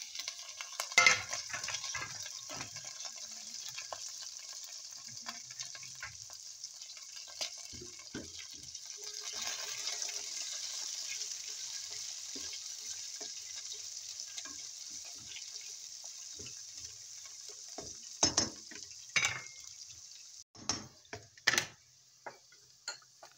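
Carrots and cabbage sizzle faintly in a pan for a simple chow mein, with a steady soft frying hiss, scattered clinks and scrapes of a utensil, and a few sharper knocks near the end.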